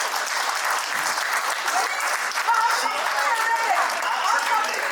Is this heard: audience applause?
yes